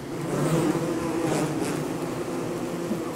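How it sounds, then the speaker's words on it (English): Steady insect buzzing from a bee in the video game Don't Starve Together, a continuous droning hum that holds close and fairly loud for a few seconds with no talking. "Wow, I almost got stung by a bee."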